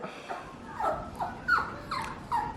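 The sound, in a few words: lost dog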